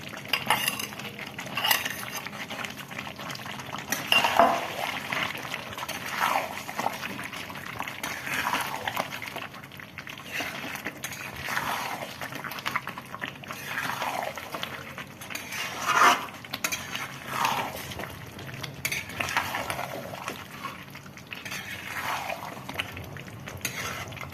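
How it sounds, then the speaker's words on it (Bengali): Bottle gourd pieces are being stirred into browned chicken in a pan, a spatula scraping and clinking against the metal in a steady repeated rhythm over a low background frying hiss, close and fairly quiet, with no talking. "মাংসটা কষার পর এবার লাউটা দিয়ে দিচ্ছি।"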